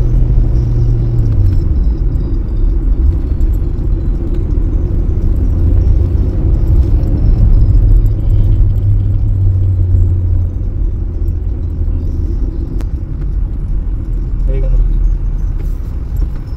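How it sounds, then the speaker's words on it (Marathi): A deep, steady engine rumble drones throughout, close and loud, with a voice talking over it. "राक्षसी गाडी चालू झाली असं वाटतं"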